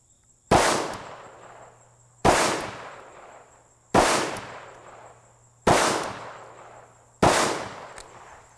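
Five loud, sharp pistol shots from a Smith and Wesson SD9VE loaded with MagTech 115 grain ammo, spaced about one and a half seconds apart, each with a crisp crack and a short decaying echo outdoors.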